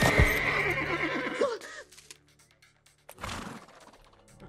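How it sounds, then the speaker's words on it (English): Cartoon palace horse giving a loud, close whinny that tapers off, then a short snort and a few faint hoof clops. "A palace horse."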